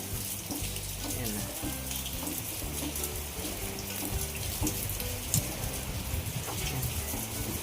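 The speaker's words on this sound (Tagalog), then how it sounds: "Ang lakas ng ulan mga kayakap po." Steady, heavy rain pours down in a continuous hiss during a strong storm in the Philippines, with water splashing onto surfaces nearby and no pause throughout.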